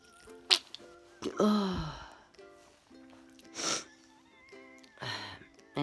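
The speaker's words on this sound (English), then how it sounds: "It goes one sneeze into another." A person with a cold sneezes in quick succession, several explosive bursts with sniffs and snorts between them, close and loud, with a brief spoken exclamation.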